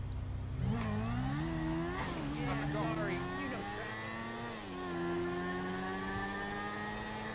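A motorcycle with twin exhausts in GTA 5 revs and accelerates hard, its high-pitched, whiny engine note rising through gears in smooth sweeps and holding at a steady, fairly loud drone.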